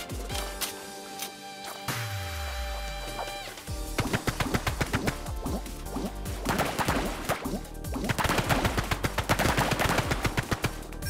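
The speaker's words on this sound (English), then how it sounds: "you should have no problem fighting them off with that assault foam gun" Rapid bursts from an assault foam gun in the FOAMSTARS video game rattle out steadily over game music, following a calmer musical opening.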